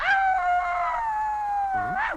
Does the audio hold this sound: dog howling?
yes